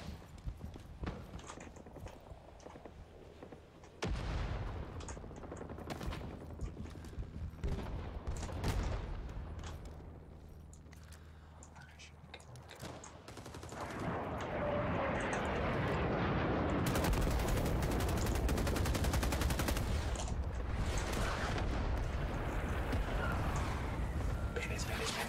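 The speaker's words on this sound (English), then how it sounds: "Where am I getting shot at?" Gunfire and explosions in a Vietnam War video game: bursts of machine-gun fire and booms near and far, quieter early, then a dense, loud, sustained barrage. A person talks over the action.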